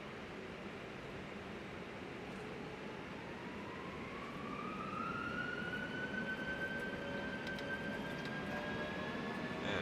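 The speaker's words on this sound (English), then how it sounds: "Wow, those engines sound so good." Airbus A320 jet engines spooling up in a flight simulator on an IndiGo flight toward Leh, a steady loud roar with a rising whine that climbs in pitch and holds, growing slightly louder toward the end.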